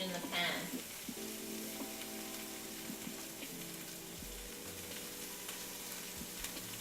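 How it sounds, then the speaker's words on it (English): Chorizo sausage sizzles steadily in a frying pan, its own fat crackling with no added oil, a close continuous hiss broken by a few brief clinks and low bumps from the pan. "You guys hear that sizzle? That's what you want to hear when you put your sausage in the pan."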